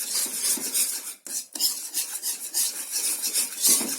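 Stirring a salted mixture in a pan with a utensil while dissolving it before cooking a three-ingredient snack, a steady close scraping and clinking that runs continuously with a brief pause.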